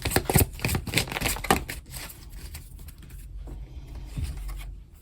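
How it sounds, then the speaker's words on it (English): Tarot cards are shuffled by hand, giving quick riffling, flicking bursts up close at first, then quieter rustling and soft handling. "quite a few cards coming out from each deck that I'm shuffling"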